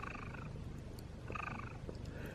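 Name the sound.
cat purring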